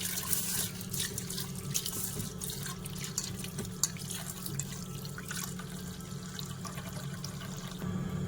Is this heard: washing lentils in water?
yes